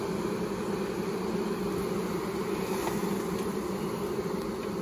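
Large swarm of honey bees in a backyard after being knocked from a cut tree limb, a dense, continuous buzzing hum, close and even throughout, with no talk.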